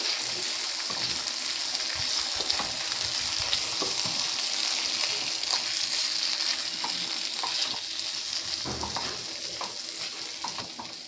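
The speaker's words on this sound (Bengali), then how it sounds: "মশলাটাকে একটু ভালো করে নাড়াচাড়া করে কষিয়ে নেব টমেটোর সঙ্গে" Spice paste and tomatoes frying in oil for a Bengali rohu fish curry, with a steady loud sizzle and repeated scraping strokes of a spoon stirring the pan, no voices.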